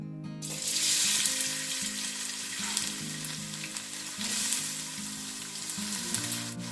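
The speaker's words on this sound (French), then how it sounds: "Une fois que j'ai mis l'huile dans la marmite, je vais mettre les oignons." Onions hit hot oil in a cooking pot and crackle into a loud, steady sizzle, with a quiet music bed humming underneath.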